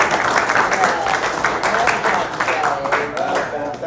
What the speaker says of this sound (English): Yeah, give him a clap.